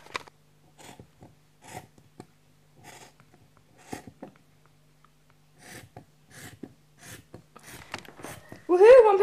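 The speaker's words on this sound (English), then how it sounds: "I'm going to cut along that line now." Scissors snipping through pyjama fabric along a marked line, a steady series of short, soft crisp cuts close up in a quiet room, ending with a brief louder noise.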